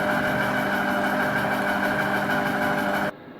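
A Compact Cook Elite food processor runs at speed 4, giving a steady, loud motor whir with an even vibrating hum that holds constant for about three seconds before cutting off abruptly.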